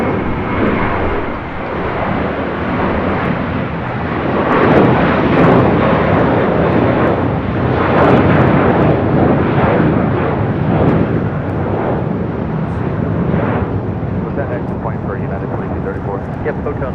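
Jet airliners arriving and departing at LAX, a loud steady engine roar swelling and rumbling throughout, with airport radio voices talking over it.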